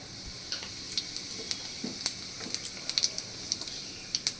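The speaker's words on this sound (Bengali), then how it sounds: "এবার এর মধ্যে দিয়ে দিচ্ছি কিছুটা সাদা জিরে" White cumin seeds hit hot oil in a wok that already holds fried potatoes, giving a soft, steady sizzle broken by scattered sharp crackling pops, close by with no talking.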